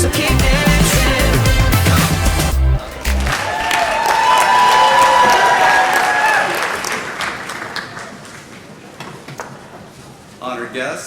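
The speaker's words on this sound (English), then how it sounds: "please congratulate these fine young ladies and gentlemen with another round of applause" Loud applause and cheering from an audience at an eighth-grade rising ceremony, a dense roar of clapping with whoops that slowly thins and fades, mixed with crowd voices and a brief break partway through.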